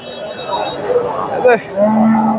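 A local cow moos once amid a noisy crowd at a cattle market in Bogura, Bangladesh, with a steady high electronic tone and background chatter around it.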